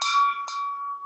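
Empty propane bottles knocked together in a maker space ring out with a bright metallic chime, one strike and then a second, each leaving a clear sustained tone that rings on after the hit.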